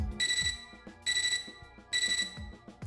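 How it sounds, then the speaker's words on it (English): A computer terminal in the video game Fate/Extra gives three evenly spaced bursts of bright electronic beeping, each about half a second long, with no talk over them. "I'm startled out of my silent contemplation by a beeping from my computer terminal."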